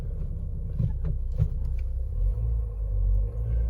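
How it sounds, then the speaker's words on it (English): A Mini Convertible with a noisy clutch release bearing runs with the gearbox engaged, giving a steady, close, low mechanical rumble that swells slightly toward the end, with no talking. "That release bearing's noisy though, I can hear it."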